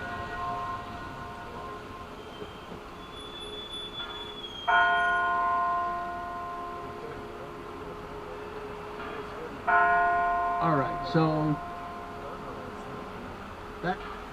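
Delacorte clock bell in Central Park strikes twice, clear ringing tones with a long decay over a hushed outdoor background, and a voice speaks briefly.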